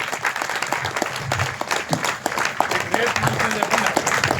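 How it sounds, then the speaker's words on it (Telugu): A hall audience at a meditation gathering gives loud, sustained applause, dense clapping filling the room throughout while a voice speaks over it. "అందరూ గట్టిగా క్లాప్స్ కొడదాం"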